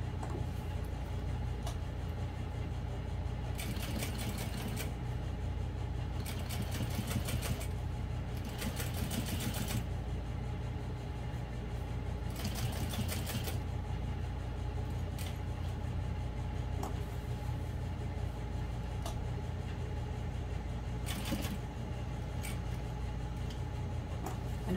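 A sewing machine stitches vinyl and waterproof canvas for a parachute knapsack, running in repeated short bursts with pauses where the needle pivots, over a continuous low background hum.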